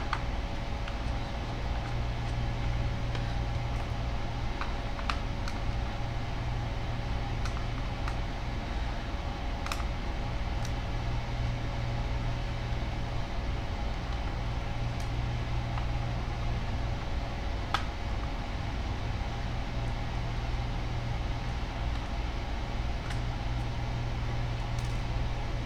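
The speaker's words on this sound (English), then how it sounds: "I've got the air handler running and the 3D printer right behind me" A room with an air handler and a 3D printer running behind, giving a steady low hum and drone with faint intermittent clicks and ticks throughout, no one talking.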